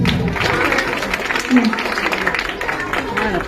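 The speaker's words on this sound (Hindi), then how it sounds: "दिलीप जी का जोरदार तालियों से स्वागत" Audience clapping welcomes Dilip ji, a CSR manager for Muthoot Finance visiting from Delhi, at a school smart-class inauguration; the dense applause runs throughout, with a voice speaking over it.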